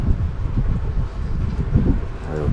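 Wind rushes steadily through leaves outdoors after a Texas winter storm, making a dense, loud, continuous blustery roar with gusty rumbling close to the microphone.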